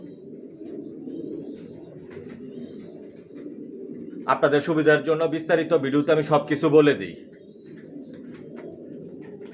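Racing pigeons kept in a loft coo in low, soft, rolling calls that continue steadily throughout. Someone speaks over them midway.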